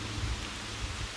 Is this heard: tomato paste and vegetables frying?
no